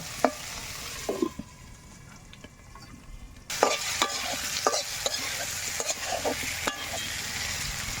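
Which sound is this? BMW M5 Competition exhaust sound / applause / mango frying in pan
mango frying in pan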